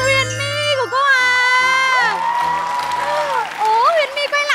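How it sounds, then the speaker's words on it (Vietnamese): A children's quiz show studio audience breaks into applause and cheering with shouts, while bright musical jingle tones ring out and a presenter's voice carries over the noise. "một tràng vỗ tay cho Huyền My của cô à."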